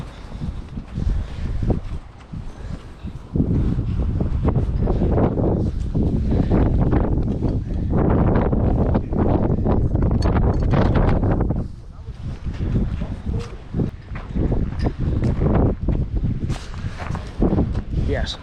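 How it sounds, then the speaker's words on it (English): Strong wind gusts buffet the microphone outdoors at an auction, producing a loud, continuous roar of rumbling noise that swells and dips. There is rustling and some movement within it. "so very, very windy today"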